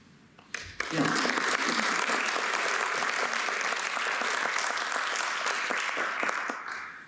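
An audience at a talk and reading on African art claps after a brief pause, a dense and steady round of applause that holds for several seconds and then begins to fade.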